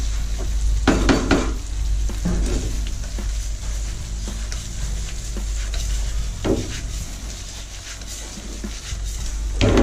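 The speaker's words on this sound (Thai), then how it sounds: "ระหว่างเราผัดไปนะครับ ผัดให้เหลืองหอมเลยครับ" Food stir-fried in a hot pan in a home kitchen until golden and fragrant, for a bacon rice dish: a steady sizzle runs throughout, with bursts of scraping and clinking as the spatula stirs against the pan.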